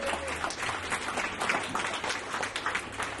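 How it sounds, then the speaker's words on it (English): Audience applauding in a hall at a seminar, a steady patter of many hands clapping throughout, moderately distant and fairly quiet. "How about a round of applause for Brian?"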